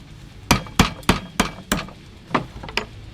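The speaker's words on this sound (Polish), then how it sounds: "Jeżeli nie mamy młotka, możemy użyć kamienia." Seven sharp hard knocks of a stone used as a hammer, like stone striking metal, while making linden charcoal, spaced unevenly with short pauses, close and fairly loud.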